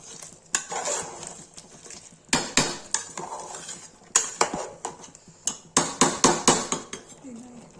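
A spoon stirs Kashmiri chicken masala curry in a pot, knocking sharply against the metal in uneven rhythmic bursts. The clanks come close and fairly loud over a faint background sizzle, with no one speaking.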